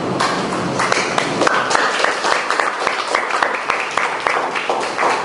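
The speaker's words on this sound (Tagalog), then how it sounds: "sa lubungin ninyo, ng palakpak ang malakas, sadyang masigabo" Loud, dense audience applause for a poet at a live recital, many hands clapping steadily and close throughout.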